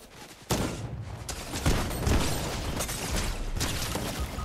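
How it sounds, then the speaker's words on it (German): Rapid gunfire in Fortnite as a player shoots a bridge apart, bursts of shots cracking close and loud over a steady clatter of impacts, with a few heavier hits standing out. "Ich schieße einfach die Brücke kaputt."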